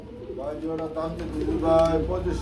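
Fancy Bombay pigeons coo nearby in low, throaty rolls while someone talks over them.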